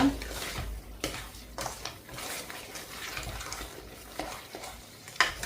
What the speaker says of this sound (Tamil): போட்டுட்டு நல்லா கைவிடாமல் மிக்ஸ் பண்ணி கொடுங்க